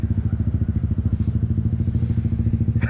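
A Suzuki GSX-R 1000 sport motorcycle engine idles with a steady, lumpy throb, loud and close, ending in a brief clatter.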